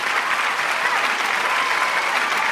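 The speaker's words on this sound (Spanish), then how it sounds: "Es momento de darle un fuerte aplauso a Tiger Lion Moicana" A studio audience applauds at a late-night talk show, a dense, steady wash of clapping that carries on without a break.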